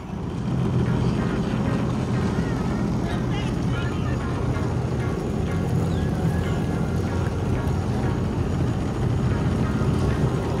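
Jet ski engine riding along the Silver and Ocklawaha rivers, a loud continuous droning motor with rushing water and wind, steady and close for the whole stretch.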